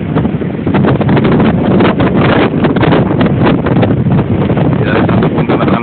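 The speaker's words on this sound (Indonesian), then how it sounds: "hujan dan badai angin melanda Kabupaten Kepulauan Selayar." Strong storm winds with rain batter the Selayar Islands, roaring loudly and continuously as heavy wind buffets the microphone throughout.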